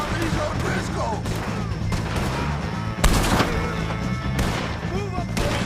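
Gunfire in the video game Red Dead Redemption 2 during a fight with O'Driscoll gang members, with a dense, steady battle bed and a sharper burst of shots about midway, under character dialogue.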